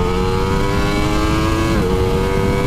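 The engine of a 2020 Ducati Streetfighter V4 motorcycle revs hard in second gear on a straight road, a loud, steady, dense howl with a slight pitch shift near the end and no speech.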